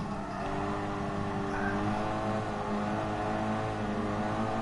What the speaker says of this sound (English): the DTM car was so loud inside when you come off the throttle, like the crackling and the popping